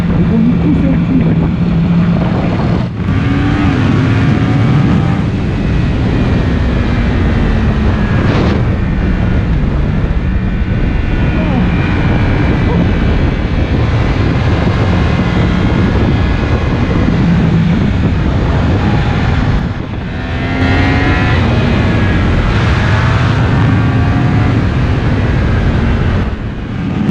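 A Yamaha MT-10 motorcycle with a crossplane engine roars loud and close while being ridden, its revs rising and falling through gear changes with wind rush, and a rider talks over the engine.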